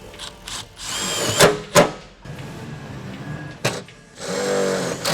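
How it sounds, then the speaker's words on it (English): A power drill whirs in short bursts with pauses between, drilling into the body of a Toyota Land Cruiser Troop Carrier, mixed with clunks and a metallic rattle nearby. "The boys are going to start drilling into this thing."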